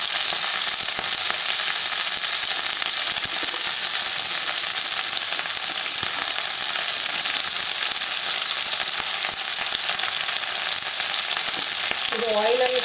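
Cut bangaraballi (Cissus quadrangularis) stems fry in oil in a pan, making a loud, unbroken sizzle that runs through the whole stretch with faint crackles and a brief clatter at the very end.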